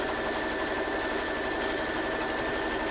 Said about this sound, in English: So over to the machine, and I'm going to stitch 1/4 inch either side.